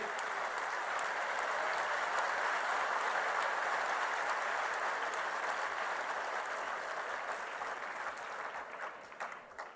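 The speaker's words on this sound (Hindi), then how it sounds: "माननीय प्रधान जी का एक बार जोरदार तालियों के साथ स्वागत और अभिनंदन करें।" Sustained, dense applause from a large audience at an official government event in Rajasthan greets a visiting minister, steady for most of the stretch and thinning slightly near the end.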